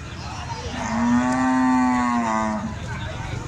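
A large male goat at a goat farm lets out one long, deep, drawn-out bleat that rises and fades over about two seconds, close and loud above faint background noise.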